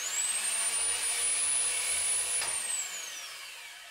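A modified portable band saw motor, switched on with a pull-out switch, runs steadily with a high whine that holds level and then winds down toward the end, alone and fairly loud.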